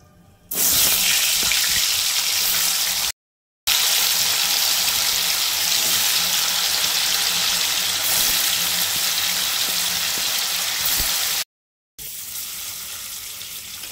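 Paneer pieces sizzle and crackle steadily in hot salted oil, a loud continuous frying hiss that runs almost the whole time with two brief cuts to silence.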